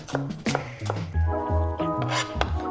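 A knife slices through onion on a cutting board while guacamole is being made, giving a few sharp, irregular cuts close by beneath steady background music.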